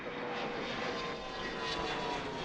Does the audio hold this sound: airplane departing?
yes